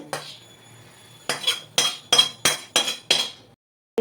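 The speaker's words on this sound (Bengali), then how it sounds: "গ্যাসটাকে অফ করে আমি এই ক্যারামেলটা একটু কাটিয়ে ভেজে দেবো" Hardened caramel being broken up and stirred in a pan with the gas off, heard as six sharp, evenly spaced clinking scrapes of a metal utensil against the pan after a quieter start.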